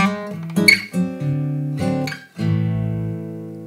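Acoustic guitar plays a short blues lick in an A shuffle, a quick run of plucked notes settling into ringing held tones, clear and close with no voices.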